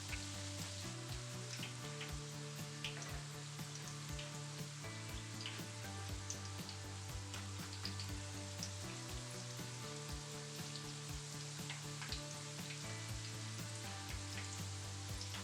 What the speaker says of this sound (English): you have to twice fry them for the best results